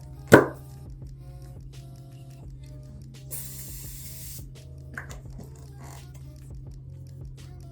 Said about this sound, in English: I'm going to set it with the Morphe Finishing Setting Spray